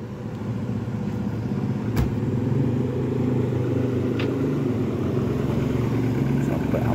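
A car's engine keeps idling after the car crashed into a container in Tangerang following brake failure. It is a steady, close, low rumble that holds evenly throughout, with a couple of faint clicks.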